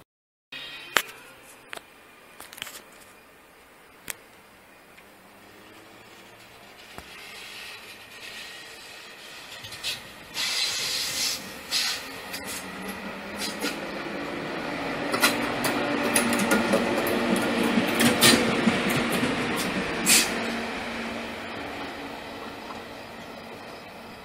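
An ÖBB 1116 electric locomotive pulls a train out of Rosenbach station, starting faint and distant and then growing louder, with clattering wheels and a rising, scale-like motor whine as it speeds up.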